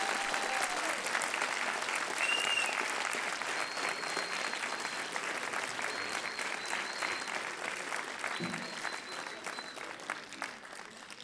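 Concert audience at the Zik à Donf show applauding a performance: sustained, dense clapping from a large crowd, loud and even at first, then easing off slightly toward the end, with no voices standing out.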